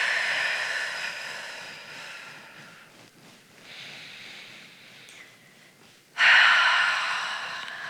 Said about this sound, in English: Taking some big breaths as you move through this.